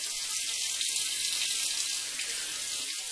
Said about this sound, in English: As you can see, I got some hot running water here.